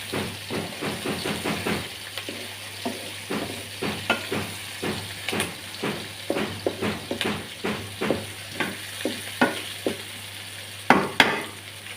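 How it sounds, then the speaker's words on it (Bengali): Onion, green chilies and dried fish fry in oil with a soft hiss, broken by frequent sharp scrapes and clicks of a utensil stirring the pan in an uneven rhythm. "এই যে পেঁয়াজ, কাঁচামরিচ আর শুটকিটা আমি ভালো করে তেলে ভেজে নিচ্ছি।"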